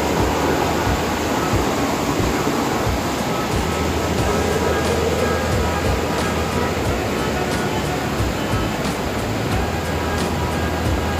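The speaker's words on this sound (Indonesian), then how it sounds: "Nah, di atas ada kereta juga tuh." A train rumbles steadily along a bridge above a river, a continuous loud broadband roar with metallic rattling, no voices over it.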